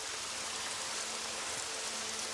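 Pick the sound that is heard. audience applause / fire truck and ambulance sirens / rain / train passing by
rain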